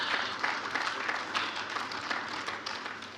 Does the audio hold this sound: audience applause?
yes